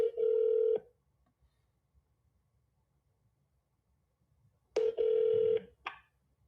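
A telephone ringing while calling a real estate agent: two long electronic ring tones separated by several seconds of near silence, clear and close, with a short tone at the very end.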